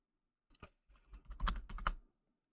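Typing on a computer keyboard, a short, close burst of rapid clattering keystrokes that starts, picks up and then stops, with silence around it.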